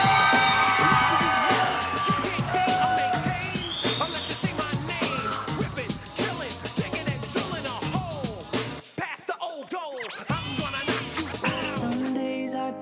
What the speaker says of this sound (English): Ladies and gentlemen, I need a huge round of applause for Joe Ament.